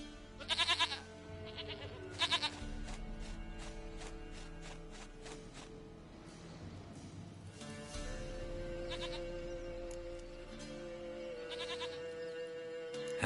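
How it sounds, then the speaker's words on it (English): A goat in The Witcher game bleats several times in loud, wavering cries, with quieter stretches between the bursts. Soft ambient tones and a few footsteps run underneath. "Goat of mine, dearest,"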